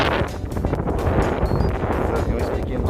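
Strong gusting wind roars and buffets steadily around a small plane landing at Sorocaba airport, a loud broadband rush with no pause throughout.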